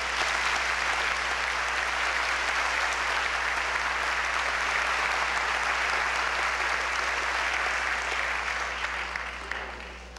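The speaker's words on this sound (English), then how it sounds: "Let's have a round of applause." A large audience claps steadily at a 1992 Celina high school commencement ceremony, a dense, even roar of applause that holds for about ten seconds and only begins to thin at the very end, with no voices over it.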